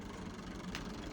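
A tractor engine idles steadily while the tractor backs up, a continuous low rumble with no voices.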